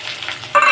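Vegetables frying in a home kitchen pan with a soft steady sizzle that turns louder and brighter partway through, as if stirred or freshly disturbed, heard close and alone.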